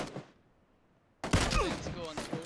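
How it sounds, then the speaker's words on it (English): Gunfire in the video game PUBG bursts in suddenly after a quiet pause, a loud rapid volley of shots with ringing tails that continues to the end. "I got shot from 120, or maybe it's the it's the hill"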